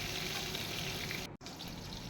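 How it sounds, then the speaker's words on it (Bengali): Tomatoes frying in hot oil for a hotel-style mixed vegetable curry with chana dal, a steady dense sizzle close up, broken by a brief gap near the middle. "এবার এখানে প্রথমে দিয়ে দিয়েছি টমেটোটাকে আগে ভেজে নেব।"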